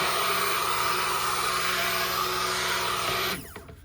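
Electric mixer running steadily while blending a batch of soap, a loud continuous motor whir that cuts off abruptly near the end, leaving quiet handling noise.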